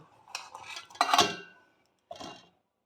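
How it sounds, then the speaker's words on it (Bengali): Chopped ridge gourd pieces drop into a mixer jar in a few short clattering bursts, close and fairly quiet, with a brief pause before the last handful lands. "এই ঝিঙেগুলো আমি মিক্সির মধ্যে দিয়ে দেব।"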